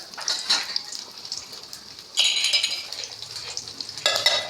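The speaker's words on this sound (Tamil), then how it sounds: "அந்த பூண்டையும் இந்த எண்ணெயிலே போட்டுக்கோங்க" Garlic fries in hot oil in a pan, a close bright sizzle that surges in three waves as it is stirred, with faint utensil scrapes between.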